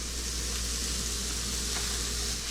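Food sizzles steadily in a cast iron pan, a dense continuous hiss at moderate level that holds evenly throughout with no talking.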